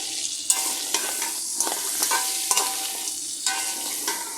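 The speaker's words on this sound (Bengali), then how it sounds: "আমি প্রথমে কাঁকড়া ভাজা করার সময় শুধু লবণ আর হলুদ দিয়ে ভেজে নিই" Crabs fry in a pan with only salt and turmeric, giving a bright sizzle broken by repeated sharp scraping stirs about every half second. The sound is close and loud, and nobody speaks.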